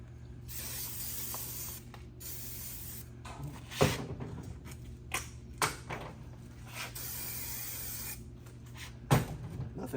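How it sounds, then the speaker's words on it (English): Hissing bursts from a spray adhesive can onto foam batting for a wooden chair seat, steady and close, broken by a few sharp clicks and rustles, over a low background hum. "then I'm gonna spray this guy to the batting."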